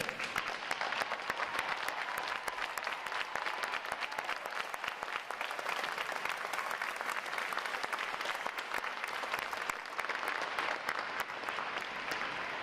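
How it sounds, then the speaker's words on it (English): A graduation crowd at a Navy boot camp ceremony claps for standing veterans, a dense, steady round of applause filling the whole stretch without pause. "Will all our veterans please stand so we can give you a round of applause?"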